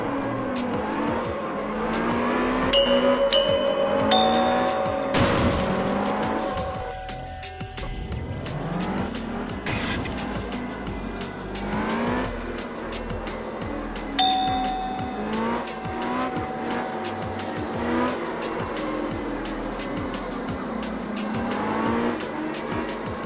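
Cars drifting in the racing video game Absolute Drift: a revving engine and long, sweeping tire squeals rise and fall continuously, with bright chime-like game tones ringing out now and then.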